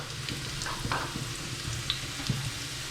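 Curry leaves frying in a pan for coconut rice, a low continuous sizzle with occasional light stirring taps and scrapes, close and fairly quiet, no voices.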